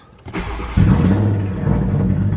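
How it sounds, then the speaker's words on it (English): A cold car engine cranks, catches and starts, then settles into a loud, rough, throbbing, cammed-sounding rumble close by. "turn on my car, let it warm up"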